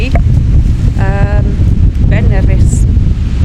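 Strong wind buffets the microphone at a holiday park in Fort William, Scotland, with a loud, constant low roar, while a voice speaks briefly over it.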